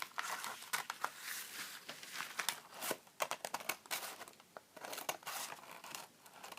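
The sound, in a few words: scissors cutting napkin and tracing paper for collage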